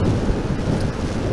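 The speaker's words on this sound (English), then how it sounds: "the rain is coming down, the wind is blowing" Autumn rain and gusting wind in Scotland beside an Aprilia SR GT 125 scooter, heard as a loud, dense, continuous roar of wind buffeting and rain with no break.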